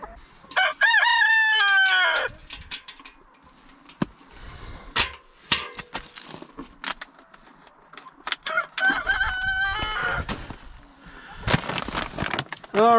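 Backyard chickens cluck and a rooster crows repeatedly as the hens come out of their coop, the calls loud and near in bursts, with bits of rustling and brief human talk between them.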